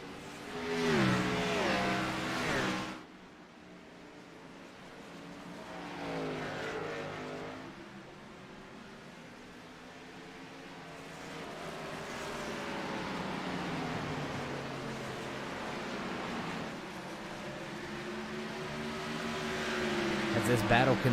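Race cars circling a track in the SCAR GrassRoots 200 sim race, engines revving and droning in loud swells that fade and return as cars pass, with a commentator talking over much of it.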